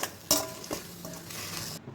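Shredded cabbage being sautéed and stirred in a pan for Tamil cabbage poriyal, with a spoon scraping and clinking against the pan over a soft sizzle, several distinct stirring strokes, close up and without talk.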